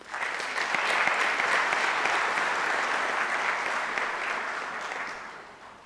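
Sustained, dense applause from a large audience at a university spring graduation ceremony, steady throughout and slowly fading toward the end.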